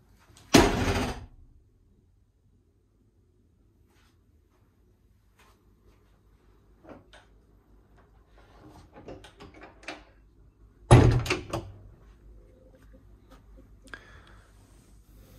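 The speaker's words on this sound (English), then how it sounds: "Here is the door into the heads from the forward cabin." The wooden door between the forward cabin and the heads of a Philip 50 classic motor yacht opens and closes with two sharp knocks several seconds apart, with quieter creaks and rattles in between.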